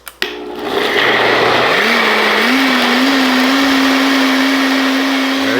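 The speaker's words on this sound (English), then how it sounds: "let it blend" Magic Bullet blender blending fresh tomato salsa, starting after a brief click and rising into a loud, steady motor whine with a sustained buzzing hum that holds alone to the end.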